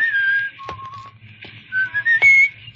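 A man whistles a lilting tune while strolling down a street in a radio drama, clear and close, in short melodic phrases with brief pauses between them.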